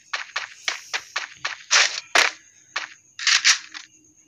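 Enemy gunfire in a shooter video game, heard as a rapid series of about a dozen sharp, close shots in uneven bursts with short gaps between them, with no talk.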